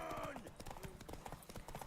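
Horse hooves pounding in a steady gallop during a horse race in the video game Witcher 3, moderately loud, with brief tonal game sounds layered on top.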